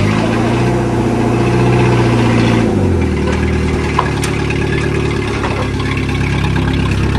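A 1994 Jetta engine running just after starting, a loud close idle whose pitch steps down after a few seconds and then settles into a steady rumble.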